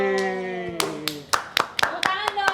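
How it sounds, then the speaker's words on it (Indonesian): A few people clap in short bursts, sharp separate hand claps coming in an uneven rhythm after a sustained voice at the start. "Tepuk tangan dong."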